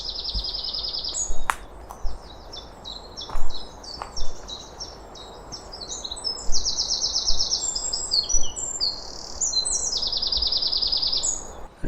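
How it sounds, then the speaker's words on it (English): Chiffchaff song in English woodland near Stowmarket, Suffolk: repeated bright two-note chirping phrases from more than one bird, fairly close and clear over a soft rustling background, with no voices. "An easy bird song to identify for beginners is the chiffchaff."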